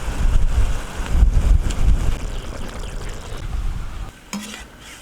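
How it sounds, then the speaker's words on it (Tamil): Mutton intestines with masala spices being stirred in a pot, loud scraping and stirring strokes over a hissing fry, with a quieter sizzle near the end. "நல்லா கிளறி குடலை ஒரு முக்காப்பாதான் வேக வச்சுக்கலாம்."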